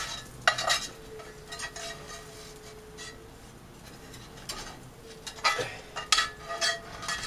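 A spatula scrapes scrambled egg omelet around a skillet, scattered scratchy scrapes and clinks in two busy stretches with a quieter sizzling pause between, fairly close.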